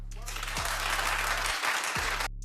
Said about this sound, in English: clap if you think she should suffer